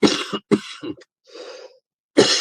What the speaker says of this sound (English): That's not a dry cough.